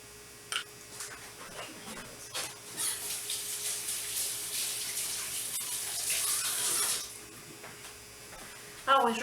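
Tap water runs from a faucet as eggs are rinsed for a homemade macaroon pie, a steady hissing stream of about five seconds with brief clatters before it, then a sharp knock at the end.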